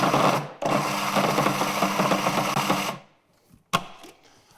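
A food processor whirs steadily for about three seconds, pulsing chickpea hummus with olive oil and chickpea liquid, then stops, followed by a brief clatter.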